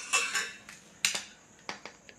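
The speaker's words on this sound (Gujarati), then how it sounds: "1 ચમચો ખાંડ આપણે એની અંદર ઉમેરી દઈશું." A spoon tapping and clinking against a vessel while powdered sugar is added to strained betel leaf juice; a few sharp, light metallic taps in short bursts, close and fairly quiet, with no talking.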